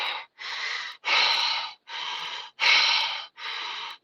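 A person imitates heavy breathing with six loud, breathy huffs in a steady in-and-out rhythm, each puff close and rasping with no talking between them.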